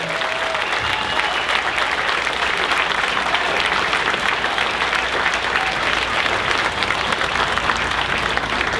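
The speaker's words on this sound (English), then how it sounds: "Ladies and gentlemen, please a big round of applause for Danny Trejo." A convention audience applauds Danny Trejo at a Q&A panel, with sustained loud clapping from a large crowd throughout.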